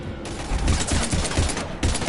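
Sustained gunfire at husks in the video game Mass Effect 3 Legendary Edition: a dense, loud barrage of overlapping shots that pounds almost without pause from start to finish.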